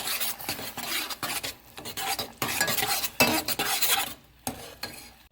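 Flour is stirred into a strawberry sauce to thicken it for a strawberry shortcake glaze, producing close, rhythmic scraping and swishing of a spoon around the pan in quick strokes with brief pauses and no talking.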